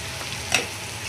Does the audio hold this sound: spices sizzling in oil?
yes